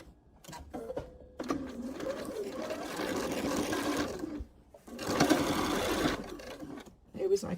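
A sewing machine stitches quilt block seams in two loud, steady runs split by a short pause, with a voice speaking over and between the sewing.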